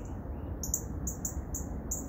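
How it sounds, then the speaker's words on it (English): Birds outdoors on a cloudy spring morning give a series of high, repeated chirps, about six or seven short tweets at a steady pace over a constant low rumble of background noise. "The birds are moderately happy."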